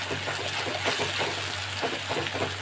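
A ginger, garlic and green chili paste fries in a pan for a soya bean masala, giving a steady, close sizzle with small crackles throughout and no talking.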